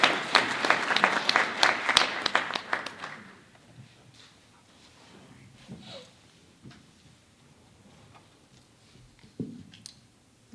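Audience applause welcoming a debate moderator to the stage at a UC Berkeley event, a dense burst of clapping that fades after a few seconds into quiet room noise with a few scattered taps.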